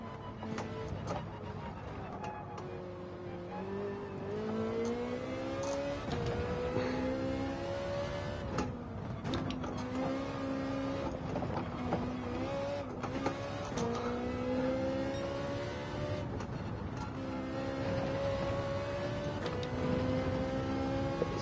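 A GT3 race car engine in Gran Turismo 7 revs and shifts steadily through a lap in cockpit view, gear changes rising and falling in pitch, loud and continuous with faint background chatter.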